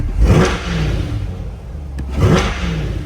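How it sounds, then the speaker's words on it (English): A 2020 Corvette 3LT coupe with the Z51 package revs up twice, rising to a throaty roar each time and settling back to a rumbling idle between, close and loud. "we'll give it a few revs"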